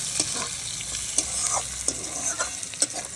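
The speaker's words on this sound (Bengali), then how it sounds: "এটাকে খুব ভালো করে ভেজে নিতে হবে।" Onion, garlic and green chilli frying in a pan, a continuous close sizzle broken by repeated scraping and tapping stirs at an uneven pace, no one speaking.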